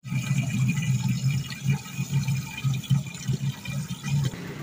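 Water pours into containers in a rushing, gurgling stream with pulsing low burbles as they fill, close and fairly loud, with no talk over it.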